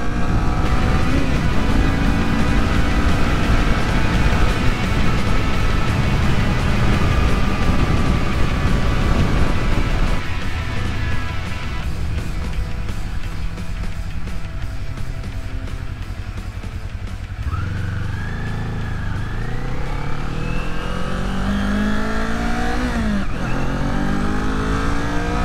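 A 2022 Kawasaki Z400 motorcycle engine pulls steadily under throttle on the road, with strong wind rush throughout and rising pitch sweeps as it accelerates through the gears.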